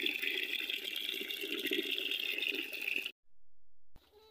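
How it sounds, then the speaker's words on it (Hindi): Cold water pours steadily into homemade vermicelli for about three seconds, a close continuous gushing splash that stops abruptly, followed by a short hum and quiet. "अब इसके अंदर ये ठंडा पानी डालना है"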